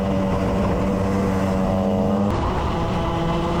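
Racing karts run hard at a Club100 Senior Sprints meeting at Bayford Meadows, a steady loud engine drone with harmonic whine that shifts pitch briefly as they pass or change speed, no voices.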